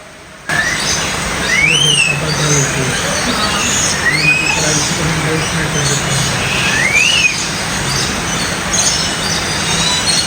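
Birds in a walk-through aviary at Bird Paradise, Mandai, Singapore, give a few sliding, whistled calls spaced several seconds apart over a dense, steady wash of background noise.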